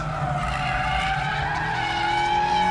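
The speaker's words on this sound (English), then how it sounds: "I'm skidding this car around" A Mazda MX-5 GT RS skidding around a race track, its tires howling in one loud, continuous squeal over the engine's drone for the whole stretch.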